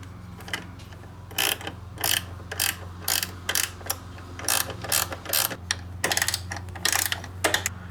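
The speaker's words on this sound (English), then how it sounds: "Gear wrenches for the win." Ratcheting gear wrench tightening bolts on a Nismo oil separator bracket for an RB26DETT engine, giving repeated bursts of quick clicking pawl ratchets, close and fairly loud, over a steady low hum.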